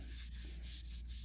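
Light-pressure sanding of tie coat on a Ford Fusion panel makes a faint, steady rubbing scrape, with quick strokes repeating roughly every half second.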